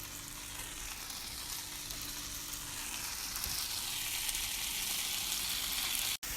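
Tofu fries in a hot pan with a steady, close sizzle that holds loud and even throughout, ending in a brief cut near the close.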